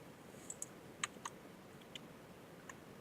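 Several sparse, quiet mouse clicks in a quiet room, a few distinct taps spread over a few seconds.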